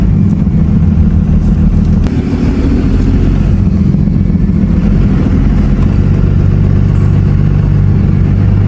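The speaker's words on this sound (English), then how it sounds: "we're driving up to pick up our wood" A car drives along in a steady, loud run with a continuous low engine drone and road rumble throughout, rising slightly near the start and holding constant.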